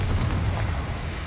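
The Confringo fire spell explodes in Hogwarts Legacy during a fight with spiders, a dense low booming blast that rumbles loud and close for just over a second.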